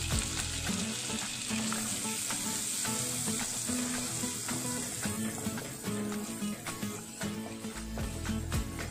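Finely chopped garlic and onion fry in a pan for a street-style masala cheese Maggi, with a steady close sizzle and intermittent stirring clicks under a low hum throughout.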